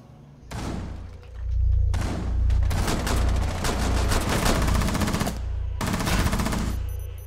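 Heavy automatic gunfire in Rainbow Six Siege on the Coastline map, loud sustained bursts with dense rapid shots and thuds, broken by short pauses, close and dominant throughout.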